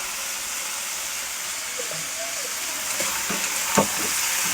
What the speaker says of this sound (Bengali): আর এখানে চাপিয়েছি আলু ভাজা।